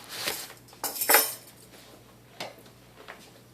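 A spoon stirring sugar into tissue culture medium, a few quiet clinks and taps of metal against a container, with short scraping strokes between near-silent pauses.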